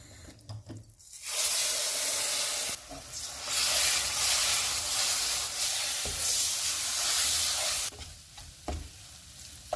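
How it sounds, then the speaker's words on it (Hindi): Fig paste being stirred into semolina already roasted in ghee over low heat for fig halwa, giving a steady close sizzle and hiss with scraping stir strokes that drop out briefly near the start and end. "अब इसमें हम अंजीर का पेस्ट डाल देंगे।"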